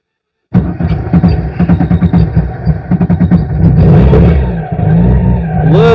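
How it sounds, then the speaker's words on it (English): An engine fitted with a Red-E Motorsports EFI system cranking and firing up after a sudden start, a rough, sputtering run with uneven pulses before settling into a steadier roar, loud and close. "Okay, first fire up with the EFI system."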